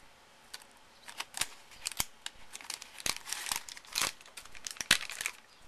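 3D Zots adhesive glue dots peeled up from their backing, a series of crisp crinkling and sticky tearing snaps, close and faint.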